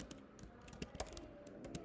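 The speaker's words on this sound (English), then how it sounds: "I can type here." Rapid keystrokes on a computer keyboard clatter in an uneven rhythm, close and fairly quiet, with a few louder key hits, with no voices.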